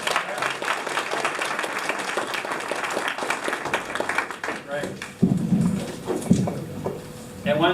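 Applause from an audience at a river symposium, a dense patter of many hands, loud at first, then thinning out and giving way to voices and room noise toward the end.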